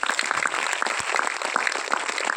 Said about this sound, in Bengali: স্যারের জন্য হাততালি হোক।